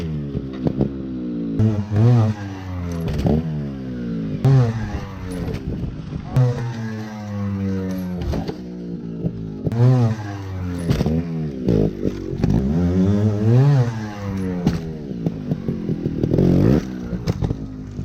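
A 2019 Factory Sherco trials motorcycle revs in sharp bursts, the engine note climbing and dropping repeatedly as it rides over rough ground, with clattering and scraping between revs.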